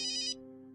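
A ringtone chirps briefly with bright, buzzy tones for a fraction of a second, then cuts off, leaving a lower sustained tone fading alone.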